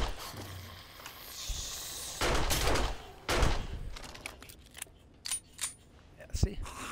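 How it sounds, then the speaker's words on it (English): Gunfire in a zombie shooter video game, with bursts of rapid shots in uneven clusters and short single cracks between them, fairly close and loud, among quieter game sounds. "Go ahead, start shooting."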